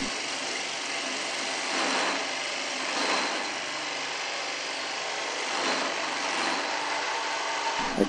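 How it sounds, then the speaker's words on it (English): A Shopsmith lathe turns spindle stock while a 1-inch gouge cuts away the excess, giving a steady, close, broadband shearing whir with slight surges as the tool bites, with no voices. "I cut away the excess stock with a 1-inch gouge."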